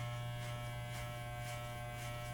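Electric hair clippers buzz steadily while cutting hair near the nape, a constant close hum with faint rhythmic swells as the blade passes through.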